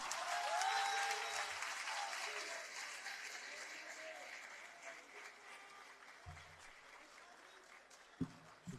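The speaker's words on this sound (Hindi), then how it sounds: "भरपूर तालियों में इस्तकबाल कीजिएगा जनाब" Audience applause at a mushaira poetry gathering greeting a poet on stage: a loud, sustained wash of clapping that gradually thins, with a few scattered claps and a brief sharp sound near the end.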